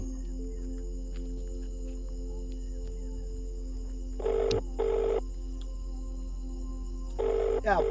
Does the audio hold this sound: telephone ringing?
yes